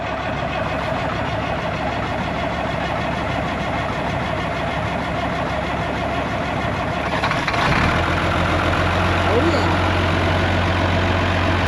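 An old, straight-piped dump truck's large diesel engine runs roughly, then catches partway through and settles into a steady, loud idle nearby.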